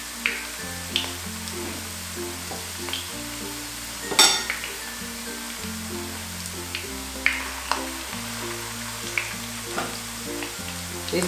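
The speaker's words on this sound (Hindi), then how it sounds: "इसको हम मीडियम टू हाई और लो सब करते हुए जो है इसको गोल्डन ब्राउन होने तक फ्राई करेंगे।" Chicken kofta balls fry in hot oil with a steady soft sizzle, close by, punctuated by occasional clinks of a utensil against the pan and one louder clatter.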